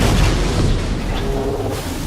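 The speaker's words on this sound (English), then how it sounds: "And there's a nice big explosion." A big explosion during a World of Warships naval battle involving the Bismarck, a loud, heavy boom that opens strongly, then trails off into a rumbling decay.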